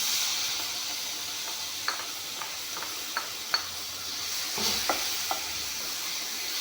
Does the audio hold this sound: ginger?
yes